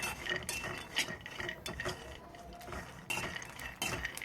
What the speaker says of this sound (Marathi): असं परतून परतून आपल्याला हे छान भाजून घ्यायचे आहेत